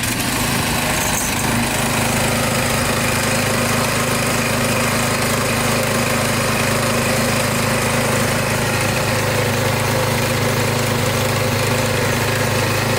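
A small engine idles after starting, a loud, steady, close drone that smooths out and holds an even rhythm throughout.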